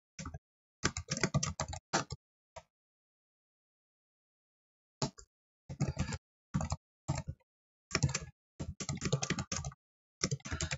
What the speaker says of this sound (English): That was a lot of typing, not a lot of testing.